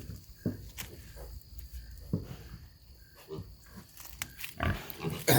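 Duroc–Hampshire F1 cross pigs grunting and snorting close by in short, repeated bursts, with rustling and shuffling movement and a louder squeal toward the end.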